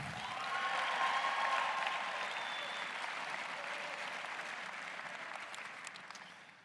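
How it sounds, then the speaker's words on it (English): A large audience at a high school graduation ceremony applauds its speakers, a dense, sustained wash of clapping with a few faint whistles that slowly fades toward the end. "Let's give another nice round of applause out to all of our speakers today."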